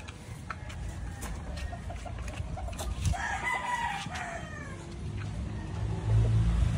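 Young green-legged pullets of Sweater Gilmore blood cluck and call close by, with a rooster crowing in the background and scattered bird noises over a low outdoor rumble.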